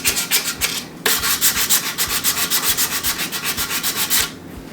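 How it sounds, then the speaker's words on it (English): Rhythmic sanding strokes on the wooden body of a Telecaster electric guitar being stripped, a steady rapid back-and-forth rubbing with a brief pause near the start, close and loud with no talking. "I will come back with more once I get all this stuff sanded down."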